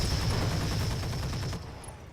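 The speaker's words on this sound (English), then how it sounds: "let's turn off the lasers and fire the rest of the weapons" Mech weapons fire in Roguetech, the BattleTech mech combat game, as a dense, continuous burst of overlapping shots and impacts. It holds steady, then drops off sharply near the end, with no voices.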